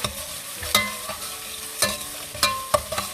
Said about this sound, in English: Now we will saute this for 2 minutes. So that everything is nicely translucent and cooked in oil.